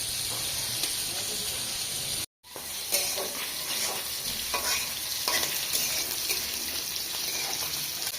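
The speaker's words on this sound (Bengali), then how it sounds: "তোমরা এই দেখো আমি ডাল কষাই নিচ্ছি" Dal fries in a pan with ginger, garlic, cumin, garam masala and onion in a village kitchen: a continuous loud sizzle with repeated stirring scrapes and a brief dropout near the start.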